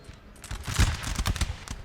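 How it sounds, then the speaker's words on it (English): Musket volleys from massed line infantry crackle in Empire: Total War, set in 1600s colonial England, a ragged burst of overlapping shots building to a loud peak and then rattling on, close and alone. "Here comes the volleys."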